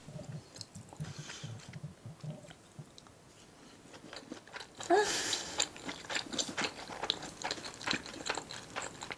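Beef tartare (yukhoe) sushi being chewed close to the mic, with soft wet bites and crunchy, clicky mouth sounds that build into a busier stretch of repeated chewing.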